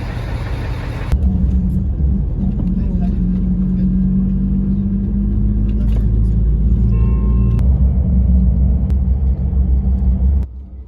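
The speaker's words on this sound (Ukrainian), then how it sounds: "Від'їжджаю з Одеси на такому автобусі" Intercity bus pulling away from Odesa, a steady low engine rumble with a deep drone that holds for about ten seconds and then drops off sharply at the end.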